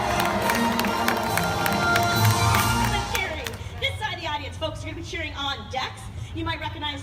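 A crowd cheers, whoops and claps loudly at the Universal Studios Hollywood animal actors show, then the noise fades as an amplified voice talks over music.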